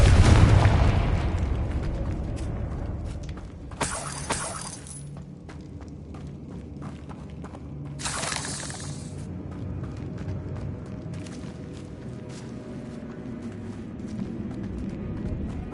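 Confringo blasting-spell explosions in a Harry Potter video game: a heavy boom at the start, then two sharp crackling blasts several seconds apart over a rumbling ambient bed.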